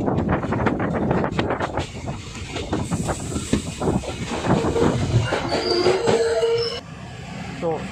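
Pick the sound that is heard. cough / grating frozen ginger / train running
train running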